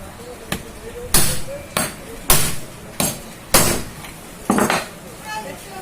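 A bearing is hammered into a ceiling fan with about six sharp metallic blows at an even, unhurried pace, each one ringing briefly close by.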